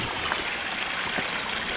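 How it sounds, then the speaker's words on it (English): Clean freshwater spring water trickling outdoors in woodland, a steady, close, continuous broadband babble of flowing water with no voices. "Freshwater spring. That's nice clean water."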